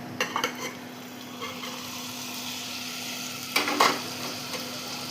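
Cut hyacinth bean pieces and fenugreek leaves frying in a pan: a faint, steady sizzle, with spatula scrapes and clinks at the start and again near the end.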